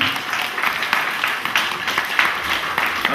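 Crowd applause for a musician at an international folk music festival, a brisk, continuous patter of clapping at moderate loudness, heard alone without speech.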